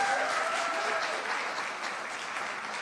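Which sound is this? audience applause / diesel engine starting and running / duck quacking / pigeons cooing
audience applause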